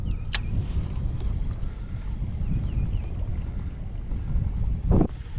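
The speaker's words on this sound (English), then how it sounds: "We got some wind going on today." Wind buffets a microphone outdoors while bass fishing in early April, in a steady low rumble, with faint birdsong above and a brief thump near the end.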